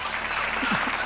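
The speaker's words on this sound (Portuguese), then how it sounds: "Um aplauso para o Adelino." Studio audience clapping on a Portuguese television game show, a short burst of applause heard steadily and fairly close throughout.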